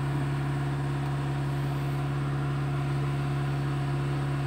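A Kia Carens engine runs at a steady 2000 rpm, its exhaust giving a constant low hum with a firm, unchanging drone, heard close up with no voices.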